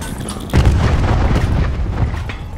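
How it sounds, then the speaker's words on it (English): A cluster grenade going off in the video game Black Ops 4: a heavy, rumbling blast with a crackle of several overlapping explosions that rolls on for about two seconds after a sudden onset. "Cluster grenade."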